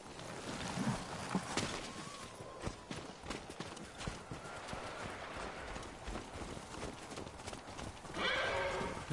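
Horses whinny and hooves clop over a busy outdoor scene near temple grounds in the video game Ghost of Tsushima, with a louder neigh near the end and steady background activity throughout.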